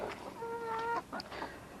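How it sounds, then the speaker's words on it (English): A Rhode Island Red rooster clucks in a short series, with a drawn-out tonal call in the middle, heard fairly close over quiet background. "Bob is a Rhode Island Red."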